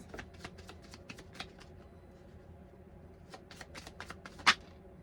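Tarot cards shuffled close by in steady riffling bursts, a soft continuous rustle with a sharper snap near the end, no talking.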